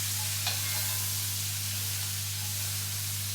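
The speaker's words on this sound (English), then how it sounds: "So onions, garlic and carrots in. Now you're going to want to cook those out for another couple of minutes." Onions, garlic and carrots cook in a pan, giving a steady broadband sizzle with a constant low hum underneath and no voices.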